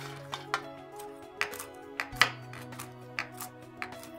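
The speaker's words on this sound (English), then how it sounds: "and then we're going to chop them coarsely" A knife coarsely chops toasted walnuts on a cutting board in a kitchen, sharp separate thuds landing every half second or so, close and fairly quiet, with no talking.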